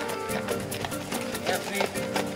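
Hooves of a horse clip-clop on the ground at a sport carriage-driving competition, a steady walking rhythm heard up close amid busy crowd noise and voices.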